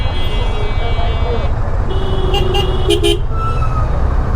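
Vehicle horns toot in short bursts over loud, steady road traffic noise in a congested jam, with a car alarm-like tone and a voice heard faintly under the din.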